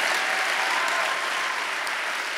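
A conference audience claps together in a large hall, a dense, steady wash of applause that holds at full strength throughout without a break.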